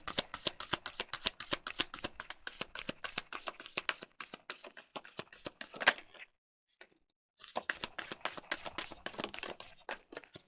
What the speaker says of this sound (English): I'm only going to do one shuffle because so many came out.